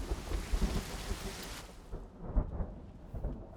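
Steady rainfall and rolling thunder in the video game Ships at Sea, loud and dense at first, with the heavy downpour thinning after about two seconds while low thunder rumbles continue.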